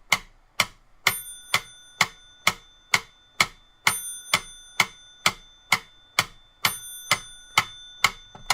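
A metronome ticks steadily, about two clicks per second, each tick sharp and close with a brief ringing tail, alone with no voices.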